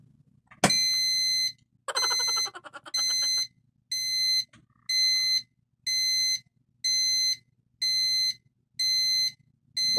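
An alarm buzzer on a wye-delta forward reverse control circuit sounds in repeated loud beeps, each about half a second long, with a rhythmic on-off pattern after an initial click.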